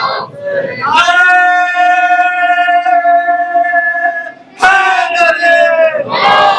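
A large crowd at a Shia Shabbedari mourning gathering in Lohiya Nagar, Meerut chants religious slogans in unison, loud and close, in long sustained lines with a short break before the next call.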